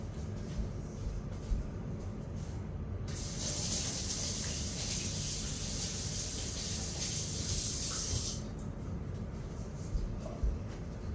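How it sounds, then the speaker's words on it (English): A spoon rinsed under a running kitchen tap while canning ground beef, a steady bright hiss of water that starts abruptly, runs for about five seconds at close range, then cuts off, with low kitchen rumble throughout. "Let me get this spoon rinsed"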